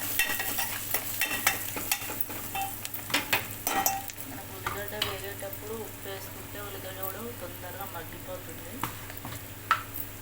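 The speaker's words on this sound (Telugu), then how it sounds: "కొంచెం ఉప్పు పసుపు అయితే వేసుకుని ఒకసారి అయితే కలుపుకుంటున్నాను" Ponnaganti greens curry being stirred with salt and turmeric in a pan, with a steady sizzle and soft scraping and stirring strokes throughout, while a voice talks over the cooking.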